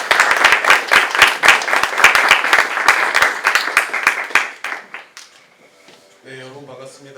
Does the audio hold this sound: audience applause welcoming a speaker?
yes